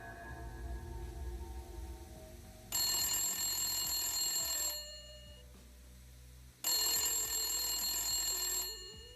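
A telephone rings in two long bursts before dawn in a modest apartment, each ring loud and close, separated by a short pause over a low background drone.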